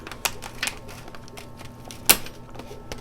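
Cheap scissors snipping through a plastic plant pot, a few sharp isolated cracks and clicks spaced irregularly, one louder snap near the end, close and otherwise quiet.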